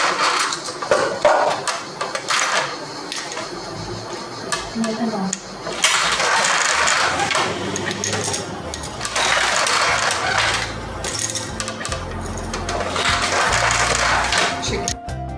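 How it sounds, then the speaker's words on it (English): A wooden handloom reed beaten repeatedly to pack the weft threads, giving bursts of rhythmic clattering knocks with mechanical rattling, loud and close, alongside a voice speaking in Turkish. "Tarağımızı vuruyoruz. Bu tarak iplerimizi sıkıştırıyor."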